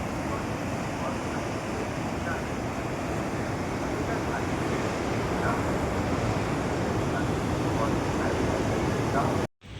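Waterfall at Rewa Eco Park in Madhya Pradesh, a steady broadband rush of falling water mixed with wind buffeting, continuous and fairly close for the whole stretch, with faint voices in the background, then cut off abruptly at the end.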